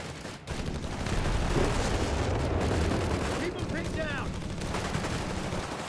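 Battle din from Company of Heroes 3 with M100 guns blasting away: continuous rumbling shellfire and crackling gunfire fill the scene, with sharp chirping ricochet-like whistles near the end.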